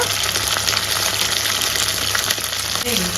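Small chopped pieces of mutton blood frying in a pan, a loud continuous close-up sizzle with a bubbling, watery hiss throughout.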